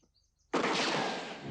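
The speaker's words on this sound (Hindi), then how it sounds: "गोली की आवाज, ये किसने गोली चलाई?" A single loud gunshot in a drama bursts out after a short silence and leaves a long, rough, noisy tail that fades slowly.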